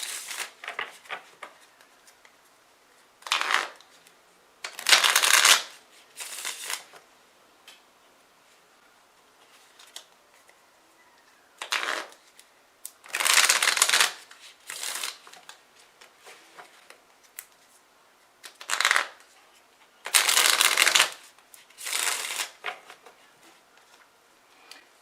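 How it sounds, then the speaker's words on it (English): A small deck of oracle cards is shuffled in several separate bursts of crisp riffling and flicking, each lasting a second or two, with quiet pauses between. "So I'm going to shuffle another little deck to clarify these 2 cards that I just got."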